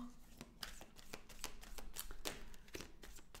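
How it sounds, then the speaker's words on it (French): Tarot cards drawn one by one from a deck during a reading, giving a series of soft papery slides and flicks with faint light handling noise, close and quiet. "je vais prendre ici maintenant 3 cartes"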